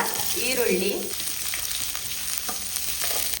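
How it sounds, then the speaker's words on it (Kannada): Garlic cloves and a piece of ginger fry in hot ghee for a mutton dish, a dense close sizzle with stirring, and a brief voice near the start. "ಈಗ ಅದೇ ತುಪ್ಪಕ್ಕೆ ಒಂದು 7-8 ಎಸಳು ಬೆಳ್ಳುಳ್ಳಿ, ಹಾಗೆ ಒಂದು ತುಂಡು ಶುಂಠಿ"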